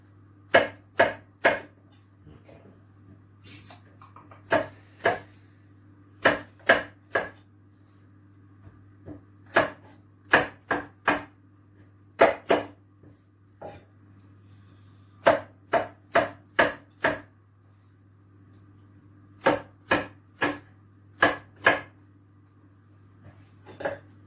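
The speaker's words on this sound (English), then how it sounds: "Mushrooms, just chop to chunks." A kitchen knife chops mushrooms into chunks on a board, giving sharp, close knocks in short rapid bursts of two to four separated by brief pauses, over a steady low hum.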